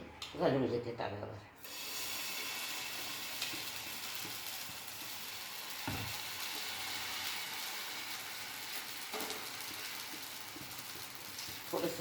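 Paratha batter spread on an oiled griddle (tava) gives a steady, soft sizzling hiss after a short clatter at the start, continuing evenly at close range with a couple of faint knocks and no voices.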